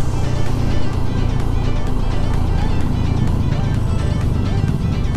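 Motorcycle with no electric starter riding in city traffic, a steady loud engine drone and road rumble running continuously throughout.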